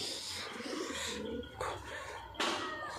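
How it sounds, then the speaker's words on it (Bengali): Soft pigeon cooing murmurs close by over a quiet background hiss, with a couple of brief louder rustles. "দেখুন পায়রা, আমি নতুন নতুনের পায়রা এনেছি"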